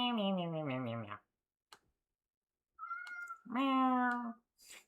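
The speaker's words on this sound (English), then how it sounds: "Bro, he is meowing" A cat meows close by: one long, wavering meow, then after a pause a short chirp and a second strong meow, with small clicks between.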